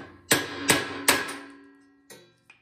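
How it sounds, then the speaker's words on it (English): Sharp metallic hammer strikes on a steel punch driving a shear pin out of a snowblower, three loud ringing blows in quick succession, then two lighter taps, each leaving a brief ring. "So a couple hits and out comes the shear pin."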